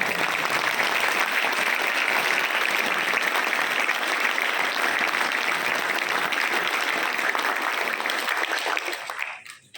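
Crowd at a marketing seminar session claps loudly and continuously, a thick, even roar of many hands that holds for nearly ten seconds before dropping away abruptly at the end.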